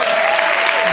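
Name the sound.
applause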